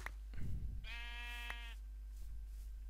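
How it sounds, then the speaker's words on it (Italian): A sheep in the Minecraft video game gives a single short, wavering bleat near the middle, clear and moderately loud, preceded by a brief thump and soft game sounds against a low steady hum. "Una pecora."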